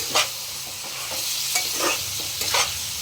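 Onion and green chili fry in oil for a mulakkai chicken curry, a close steady sizzle broken by several distinct scraping stirs of a spatula in the pan.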